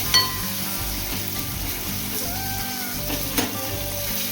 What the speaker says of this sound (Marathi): आता हे चांगलं मिक्स करून घ्यायचं